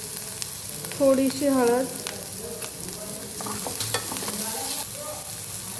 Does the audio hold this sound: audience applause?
no